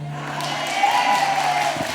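Applause from a church congregation during a Pentecost vigil, a dense wash of clapping held steadily for two seconds beneath a faint low hum, with no clear voices.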